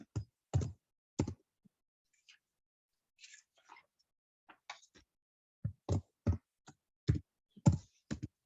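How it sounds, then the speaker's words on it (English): Scattered, soft keystrokes on a computer keyboard tap out a password in short irregular clusters, faint and close with quiet gaps between. "I'm going to put my password in here again for my coming into OneView"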